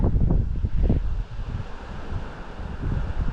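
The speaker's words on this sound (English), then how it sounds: "I don't know if you can hear that wind." Strong wind buffets the microphone in heavy, rumbling gusts, with a steady roar between them and no voices, as a DJI Mini 3 Pro drone flies in the wind.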